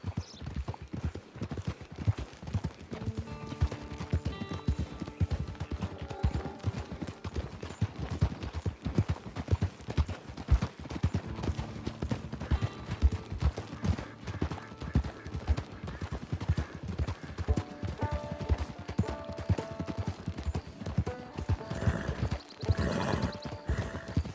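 In the video game Red Dead Online, horse hooves clip-clop in a steady, continuous rhythm throughout, with a low musical score underneath and no clear speech.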